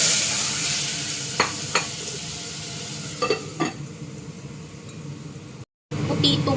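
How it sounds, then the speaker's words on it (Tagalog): Eggplant and tomato sizzle in a frying pan while a utensil stirs, producing a few scraping clinks over a steady hiss, with a short break near the end before the frying resumes. "So, igisa na nato ang talong."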